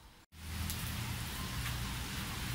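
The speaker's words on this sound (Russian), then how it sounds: "Дождик идет прям." Steady rain patters and hisses on surfaces outdoors near parked airplanes, continuous and moderately close after a brief dropout near the start, with no voices.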